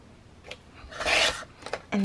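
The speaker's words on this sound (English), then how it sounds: "So I'm gonna trim this out all the way around." Scissors snipping through printed paper while trimming around a printed design, a few short rasping cuts with brief pauses, close and fairly quiet, no voices.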